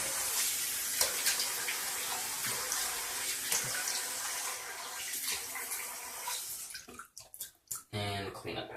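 Water runs from a tap while shaving soap is rinsed off, a steady broadband rush that breaks into splashes and gurgles near the end as hands move through the stream.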